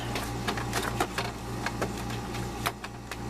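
An Epson ET-2800 printer runs test pages close by: a steady mechanical hum with a scatter of sharp clicks and ticks as the paper feeds and the print head moves.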